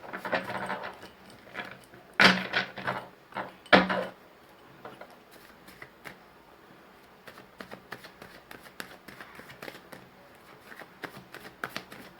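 A tarot card deck is shuffled by hand, with two loud, sharp riffles early on, then a long run of softer, scattered card flicks and taps close by.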